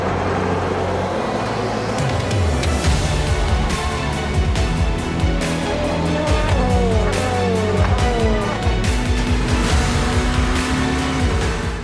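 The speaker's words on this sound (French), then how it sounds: "Pilotes, démarrez vos moteurs." Loud, continuous roar of many race car engines starting, revving and whining together at the 24 Hours of Le Mans, with repeated sharp bursts and shifting pitches throughout.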